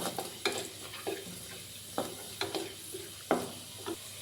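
Garlic sizzles gently in a pan over a low flame, a soft steady frying hiss broken by repeated clicks and scrapes of a stirring spoon, close and fairly quiet.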